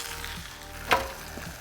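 Food sizzles and fries in a smoky frying pan, a steady close crackle with one brief louder pop midway, no voices.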